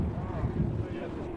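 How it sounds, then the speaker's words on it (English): Strong wind gusts over open desert near Alamogordo in a sandstorm, buffeting the microphone with a dense low rumble and rushing noise throughout the short span. "now the wind is really picking up"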